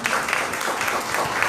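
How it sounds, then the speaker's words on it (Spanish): Applause from an audience at a Miss Huaral Provincial 2019 pageant event, a brief steady burst of clapping heard at moderate distance. "para quien pide un fuerte aplauso."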